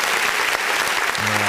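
A burst of crowd applause played as a sound effect on a live stream, dense close clapping filling the clip, cut off near the end by a low tonal hum.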